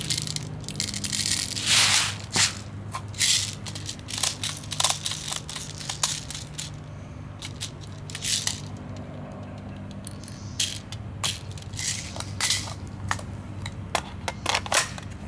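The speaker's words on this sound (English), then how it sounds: "I'm gonna fill it up with some more BBs" BBs being loaded into a GHK M4 airsoft magazine make bursts of sharp, close clicks, rattles and scraping, irregular and repeated, with short pauses and no talking.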